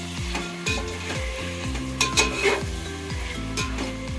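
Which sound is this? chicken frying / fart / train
chicken frying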